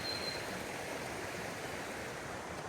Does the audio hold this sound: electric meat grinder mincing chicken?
no